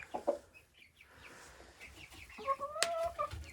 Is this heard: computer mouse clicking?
no